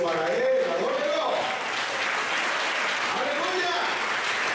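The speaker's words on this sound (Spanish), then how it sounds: "Fuerte ese aplauso para él." A church congregation applauds during a Spanish-language sermon, with loud, sustained clapping filling the room as a voice carries over it.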